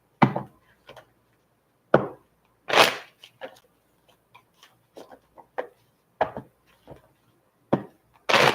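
Tarot cards being shuffled by hand, a series of sharp, separate riffling bursts and soft taps spaced irregularly, close and fairly quiet against near silence.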